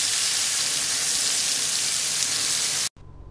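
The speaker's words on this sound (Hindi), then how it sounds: "ये एक्स्ट्रा मसाला मैं इधर इसको फ्राई कर लूँगी" Extra masala sizzling and frying in hot oil for fried green chillies, a steady loud crackling hiss up close that cuts off abruptly near the end.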